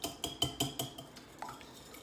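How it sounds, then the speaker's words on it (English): Eggs, olive oil and vanilla whisked together in a bowl, giving about five sharp, evenly spaced clinks of the whisk against the bowl that then fade to a few softer taps, close and with no talking. "2 eggs, a tablespoon of olive oil, and then we're also going to add a teaspoon of vanilla. All right, so we're going to whisk this all together."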